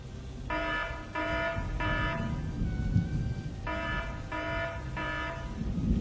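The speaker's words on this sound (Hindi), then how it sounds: "अचानक केबिन के अंदर एक अलार्म बजता है।" An alarm in a cabin rings in repeated bursts, three rings, a pause, then three more, over the steady hiss of heavy rain with low rumbling thunder.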